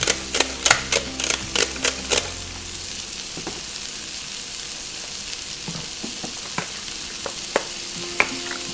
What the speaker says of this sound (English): made a space in between so we can saute them nicely